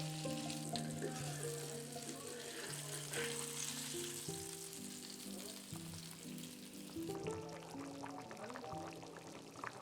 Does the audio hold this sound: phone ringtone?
no